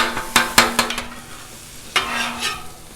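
Sausage cooks on a Blackstone griddle, a soft sizzle under sharp scraping and tapping strokes of a spatula, several quick hits early, then a pause and a second short burst.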